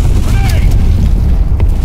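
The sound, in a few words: grenade explosion in the video game Black Squad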